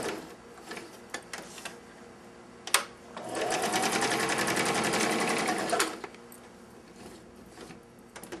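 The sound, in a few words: sewing machine stitching paper crafts with navy thread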